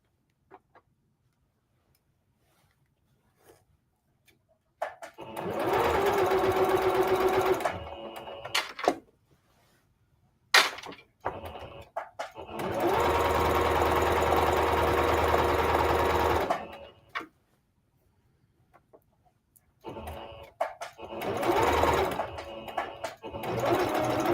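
A sewing machine runs loud and close while stitching palazzo pants made from a skirt, with three long bursts of fast, even needle chatter broken by quiet gaps and small clicks.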